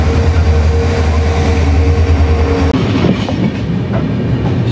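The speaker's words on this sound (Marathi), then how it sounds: "आता आम्ही ट्रेनमध्ये चढलो आणि बेसिकली आता ट्रेन निघाली आपली" Deccan Express train pulling out, loud rumbling railcars with a steady low hum and rhythmic clatter, the tone shifting partway as the carriages gather motion, no speech.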